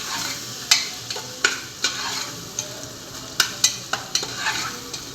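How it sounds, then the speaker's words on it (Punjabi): A pasta mixture with tomato ketchup is stirred in a pressure cooker, the spoon scraping and knocking against the metal pot in irregular sharp clicks over a low sizzle, close and fairly loud. "ਚੰਗੀ ਤਰ੍ਹਾਂ ਮਿਕਸ ਕਰ ਲਵਾਂਗੇ"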